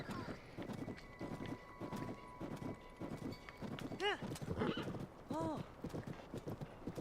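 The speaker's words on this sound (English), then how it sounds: "Another horse, everyone." A horse in the Tears of the Kingdom video game trots with quick clip-clopping hooves and gives two short whinnies, heard under continuous talking.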